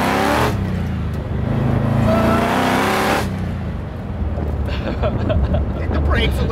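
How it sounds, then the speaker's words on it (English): A supercharged Hellcat V8 engine in a Mazda Miata roars hard under acceleration, loud and close, then drops to a rougher rumble with voices faintly underneath. "We're driving a Hellcat Miata."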